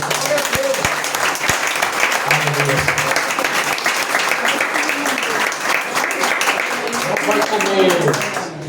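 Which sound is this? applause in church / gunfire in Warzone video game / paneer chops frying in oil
applause in church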